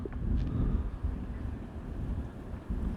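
Strong gusts buffet the microphone on an open railway station platform, a low continuous rumble of wind noise with no speech.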